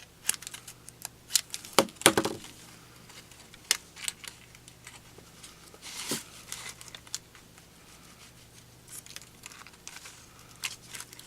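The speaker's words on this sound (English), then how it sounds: "I need to cut a little tiny bit more off there." Scissors snipping paper while trimming a piece for a handmade shaker card, a run of short irregular crisp cuts and rustles, close by, with a cluster of louder snips early on.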